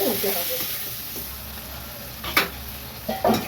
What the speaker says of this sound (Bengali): এবার মাংসটাকে কষে নেবো, সাথে টমেটোর টুকরোগুলোও দিয়ে দিলাম।